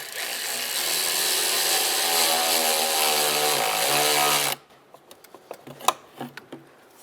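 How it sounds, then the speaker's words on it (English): Power tool tightening a band clamp on the intake of a 2007-2015 Mazda CX-9 during fuel injector work, a loud steady whine for about four seconds, then scattered clicks and clanks. "And now we'll tighten down the band clamp."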